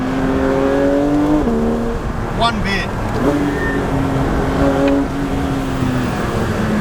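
A Porsche 911 GT3 RS accelerates hard on winding roads, its engine note climbing in pitch through several gear changes, loud and close from inside the car, with someone talking over it.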